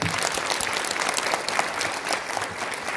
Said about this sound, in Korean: 다시 한번 박수 부탁드리겠습니다